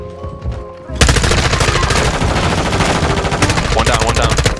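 Dense shotgun and automatic gunfire from a Call of Duty MW2 firefight bursts in after a second and keeps going loud and continuous, rapid shots stacking over one another with game ambience underneath.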